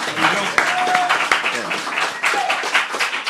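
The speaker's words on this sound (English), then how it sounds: "Let's give a round of applause to Dillon Walshe, who just sat down." Studio audience applause at a television talk show, moderately loud claps and some cheering that run alongside a host's speaking voice throughout.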